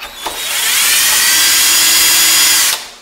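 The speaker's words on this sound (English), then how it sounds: "I put it in a half inch drill. I go ahead and tighten it up." A half inch power drill spins up with a loud high whine while trimming a 5.56 brass case to length, holding steady for about two seconds before winding down.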